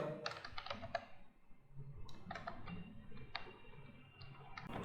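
Code being typed fast on a computer keyboard, a quick run of crisp key clicks coming in bursts with short pauses, close and fairly quiet.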